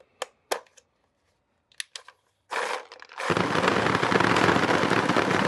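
Paintball marker firing through a Virtue Spire V loader: a few sharp isolated shots, then a sustained rapid stream of continuous firing that runs loud to the end.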